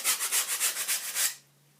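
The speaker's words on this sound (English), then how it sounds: "Just going to give those edges a little sand." Edges of a wooden block are sanded by hand in quick back-and-forth strokes, about ten close, dry rasping rubs in rapid rhythm, then stopping abruptly into near silence.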